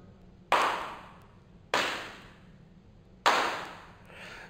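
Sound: hand claps to test room echo and reverberation

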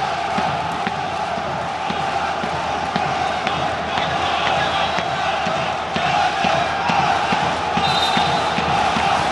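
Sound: Lebanese basketball fans cheering in Dubai arena

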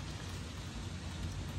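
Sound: hail and rain falling outside in New York

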